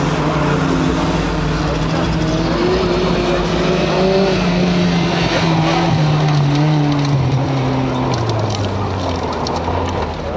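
A Peugeot rally car drives hard on a special stage near Schneeberg, its loud engine note rising and falling through gear changes, with a German-speaking commentator talking over the roar.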